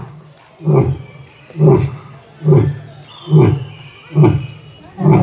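A lion at Bannerghatta Biological Park gives a run of six short grunting roars in a steady rhythm, each about a second apart, loud and close.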